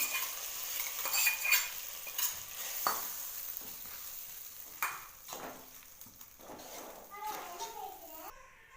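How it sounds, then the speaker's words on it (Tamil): Fried cashews are stirred into a pot of pongal with repeated close scraping and clinking of a spoon against the vessel, over a light sizzle, while a voice talks. "இதை கொட்டி நல்லா கிண்டி விட்டுக்கலாம்."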